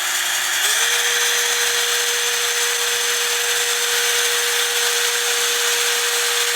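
Cordless screwdriver spinning a treadmill motor used as a wind generator: a steady high-pitched electric whine that steps up in pitch early on, then holds constant and loud to the end with no talk.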